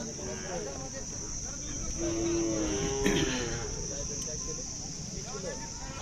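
At the Sangola Khillar livestock market, cattle give a faint, short low call amid a steady outdoor murmur and a constant high insect-like hum.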